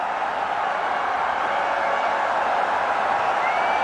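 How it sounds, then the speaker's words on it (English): A large cricket crowd at a Test match in Bengaluru stands and applauds, a steady, dense wash of clapping and cheering that holds evenly throughout without a break. "The crowd standing up and applauding."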